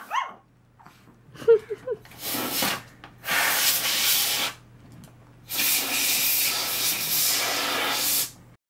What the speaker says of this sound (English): what is it called? Compressed air.